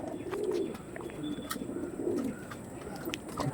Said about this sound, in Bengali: সুন্দর কোয়ালিটির পায়রা দেখাচ্ছে